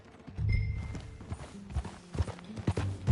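Horse hooves clip-clopping at a riding gait in the Red Dead Redemption 2 video game, a steady, moderately close rhythm of soft thuds with little else around.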